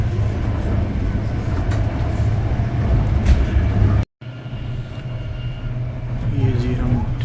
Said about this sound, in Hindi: ये ट्रेन में हम सफ़र कर रहे हैं